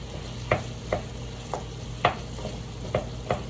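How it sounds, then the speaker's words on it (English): Vegetables frying in a pan while a utensil stirs and breaks them into bite-sized chunks, with irregular scraping knocks over a low sizzle, close and with no talk, during late-night keto meal prep. "I am going to try and break the vegetables up into smaller pieces though, bite-sized chunks."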